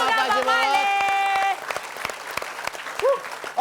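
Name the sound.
applause from studio audience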